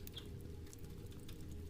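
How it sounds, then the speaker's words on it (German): Soft rain patters lightly and continuously, a faint, even drumming of scattered drops without voices. "das leise Trommeln des Regens"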